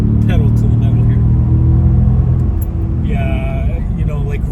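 A 2005 Mercedes CLK55 AMG's engine rumbles steadily under acceleration from inside the cabin, a loud low drone that eases slightly partway through while road noise continues.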